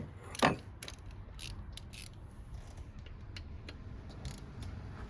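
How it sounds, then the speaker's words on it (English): Socket ratchet wrench with an extension bar working on a Ford Fiesta EcoBoost engine side cover, giving one sharper click and then a string of faint, quick, irregular clicks against a low background hum. "There's another little ratchet. Happy little ratchet. There's my little ratchet."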